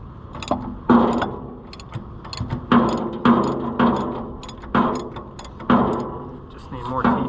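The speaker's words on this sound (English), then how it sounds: "Just need more teeth on the ratchet." A cheap, few-toothed ratchet is worked on tractor parts, giving close, irregular clicking strokes with sharp metallic pauses between pulls and scattered clanks.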